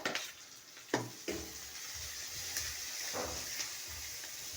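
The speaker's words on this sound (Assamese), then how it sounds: "এতিয়া আদা ৰচুন আৰু জলকীয়া পেষ্টটো দি দিছে" Ginger, garlic and green chili paste sizzles and fries in a pan on a gas stove, with a steady crackle close by and a few sharp scrapes and clinks of stirring over it.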